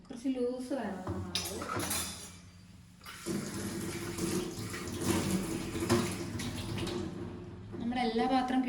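Tap water runs into a kitchen sink while vessels are washed, a steady broadband rush with dish clatter, interrupted briefly then resuming strongly; someone talks over it at times.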